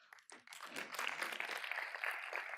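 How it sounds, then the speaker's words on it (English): Audience applause for Kevin at a design conference talk, a burst of clapping that starts scattered and quickly swells into steady, dense applause filling the room. "That's claps for Kevin."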